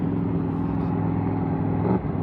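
A turbocharged F-body car with about 14 pounds of boost runs on the street, a steady loud low engine rumble building as it accelerates, heard from a short distance with no talk.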